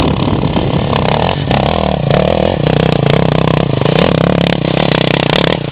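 A motorcycle engine runs steadily and loudly nearby, with a rough mechanical clatter and slight shifts in pitch as it is ridden.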